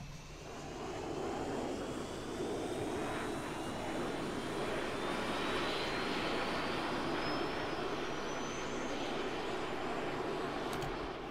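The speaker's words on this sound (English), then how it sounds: "I just took their jet" A stolen jet in a video game roars steadily at close range. A rising high whine runs over a constant rumble, with no talking.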